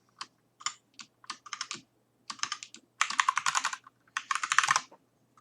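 Someone typing a password on a computer keyboard during Fedora Linux setup: close, crisp keystrokes in short irregular bursts, growing into faster, denser runs toward the end, with quiet gaps between.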